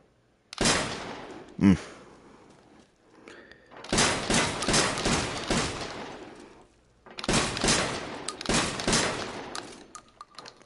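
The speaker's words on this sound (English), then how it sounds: "Just imagine an assault rifle and a shotgun had a baby. That's exactly what this is, basically. Shoots slugs." A slug-firing hybrid of assault rifle and shotgun fires in a VR game, with one lone shot followed by two loud, rapid bursts of heavy, punchy reports separated by short pauses.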